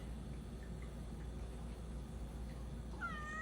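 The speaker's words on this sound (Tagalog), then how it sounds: "Why do you need to meow?" A single short cat meow rises near the end over a low, steady background hum.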